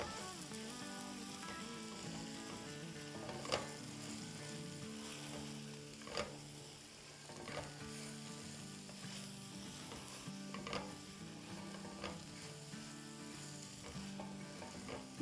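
Potato slices with chillies fry and get stirred in a pan on medium heat, a continuous close sizzle broken by periodic scraping clicks of the spoon, with no voices.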